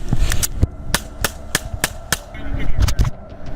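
Gunfire exchanged between a state trooper and a suspect during a roadside confrontation: a series of sharp, loud shots at irregular intervals, about a dozen over a few seconds, over background noise and muffled shouted commands.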